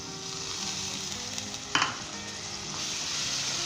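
Tomatoes being stirred into a sizzling capsicum and potato curry, a steady fry hiss with a brief louder scrape of the spoon partway through, close and with no voices.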